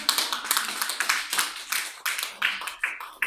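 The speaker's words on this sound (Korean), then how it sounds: "박수 한번 쳐야 되는 거 아니에요?" Audience at a Korean book-writing event clapping together for a few seconds, a dense burst of handclaps close to the room mics with no talking over it.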